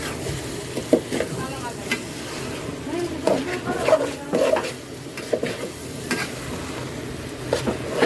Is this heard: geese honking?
no